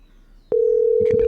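In a Bengali comedy cartoon, a phone call starts with a short click followed by a loud, steady single-pitch dial tone that continues to the end, with faint rustling beneath it.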